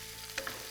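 Green chillies tempering in hot mustard seeds for dhaba-style dal tadka produce a steady close sizzle, with a couple of faint clicks partway through.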